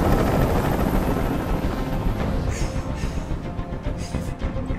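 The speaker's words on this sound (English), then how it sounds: "Tell that helicopter to get out of here!" A helicopter hovers in the video game Detroit: Become Human, a steady, loud broadband rotor drone that fills the whole stretch without a break, with no speech.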